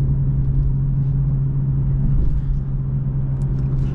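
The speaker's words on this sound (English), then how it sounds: "it downshifts and keeps it in a good RPM range" Inside a 2022 BMW M240i xDrive cruising in sport mode, a steady low engine drone and road rumble hold at a constant pitch, loud and close, with a faint slight change as it downshifts.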